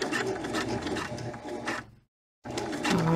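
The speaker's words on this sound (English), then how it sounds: "I'm going to go ahead a couple stitches and then go back and lock it in." Sewing machine stitching a clutch lining, a rapid mechanical whirr of needle strokes that stops for a brief silence, then starts again for a few more stitches backward to lock the seam.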